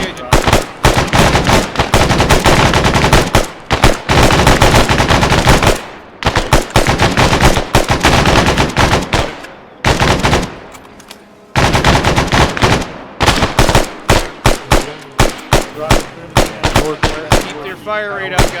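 Machine gun fire in the military shooter game ARMA 3: loud, sustained automatic bursts hammering almost continuously, separated by short pauses, with rapid single shots near the end and faint voices beneath.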